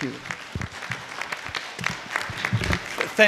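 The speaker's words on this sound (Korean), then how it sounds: "박수로 환영해 주시기 바랍니다" An audience at a Korean American Day celebration claps to welcome Delegate Tim Hugo, a short burst of scattered applause with a voice briefly heard among it.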